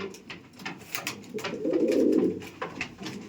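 Madrasi pigeons coo in a breeding room, a soft low rolling coo swelling near the middle, with light fluttering and small rustles around it and no talk.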